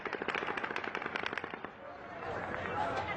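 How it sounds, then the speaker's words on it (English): Rapid bursts of automatic gunfire from the Las Vegas mass shooting crackle in a fast, uneven string, distant and echoing, then fade into a rushing wash of crowd noise and movement. "He fires his 12th and final burst as Corey Langdon leaves the Mandalay"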